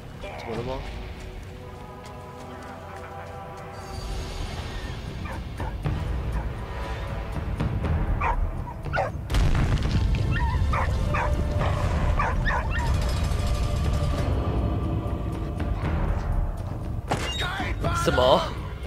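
A dog in the World War I video game Valiant Hearts whimpers and gives yipping barks amid game music and clip-clopping hooves, while a player keeps talking over it.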